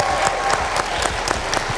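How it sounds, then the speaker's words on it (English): A studio audience applauds steadily on a television talk show pilot, a dense, continuous wash of many hands clapping with faint rhythmic peaks, fairly loud and close. "so let's give her a round of applause for that."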